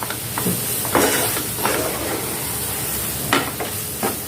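Mango semolina sheera is stirred in a hot pan, giving a continuous sizzling hiss broken by soft scraping strokes of the spoon at irregular intervals, with no talking.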